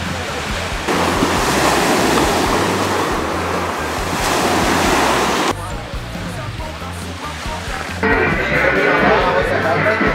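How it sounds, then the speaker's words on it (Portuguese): Loud, continuous surf washes onto a beach, with waves breaking and rushing close by while wind buffets the microphone. "Olha que maravilha de praia"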